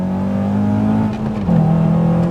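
Honda Accord Euro CL9 with a K24 engine revs up, a close, loud steady drone whose pitch climbs and settles over a couple of seconds, with no talk.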